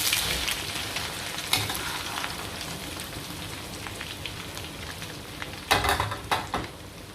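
Thick batter deep-frying in a pan of oil for a puffy breakfast dish, a steady dense sizzle with a few sharper crackling bursts near the end, close and continuous with no talk.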